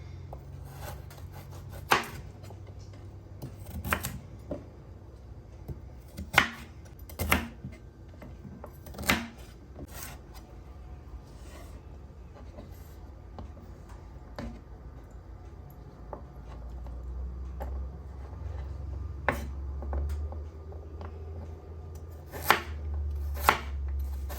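Celery and other vegetables for a ground beef and black-eyed bean chili are chopped on a board, with irregular sharp knife strikes spaced a few seconds apart over a low background hum, no talking.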